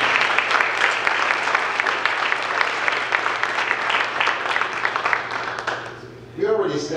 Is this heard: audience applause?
yes